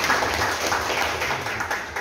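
Clapping fills a district council hearing room in Musi Rawas as attendees applaud, an even, fairly loud patter of many hands with a faint low rumble of the room beneath and no talk.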